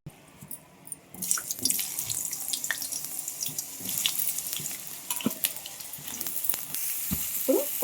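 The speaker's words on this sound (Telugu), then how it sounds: "ఇప్పుడు ఈ పొటాటోని ఆయిల్ ఆయిల్లో వేసుకుందాం" Potatoes dropped into about three spoons of hot oil for a restaurant-style potato fry, a quiet start then a sudden steady sizzle with crackles and utensil scrapes as they are stirred.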